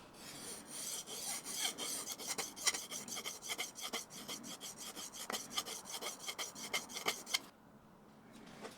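A woodworker removes the burr from a plane iron by rubbing it on a sharpening stone, making rapid rhythmic rasping strokes close up. The strokes are quiet and repeat steadily for several seconds, then stop.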